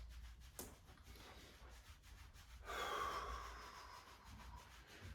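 Fists rubbing vigorously up and down over the lower back at the kidneys, a soft steady friction that swells louder midway through and then eases, close and alone with no talking.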